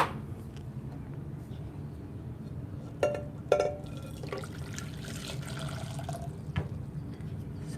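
Previously boiled water pours for brewing tea, a steady liquid trickle with a few faint clinks and splashes, heard alone without talk.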